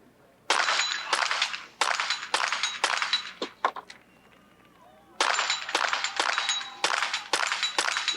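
A .22 rifle fires rapid strings of sharp, evenly spaced cracks at a shooting competition, with each burst of shots knocking over targets. The shots come in two quick volleys separated by a brief pause.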